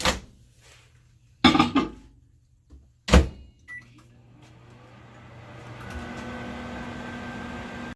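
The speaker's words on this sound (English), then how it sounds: "I'm going to pop this in the microwave for 30 seconds." A few clunks and a microwave oven door shutting, then a steady low hum with a faint whine sets in and runs on evenly as the microwave starts up.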